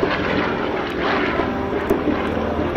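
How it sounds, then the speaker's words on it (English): A radial-engine aerobatic airplane roars steadily overhead at an air show as it climbs into the vertical, a loud continuous engine drone with wind rush and no pauses. "That is sheer power off that radial engine in the front"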